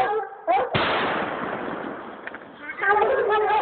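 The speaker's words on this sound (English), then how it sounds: "That was a good shot, Ron." A single loud rifle shot cracks out during a bear hunt with hounds in California, a sharp blast followed by a long rolling echo, with people talking before and after it.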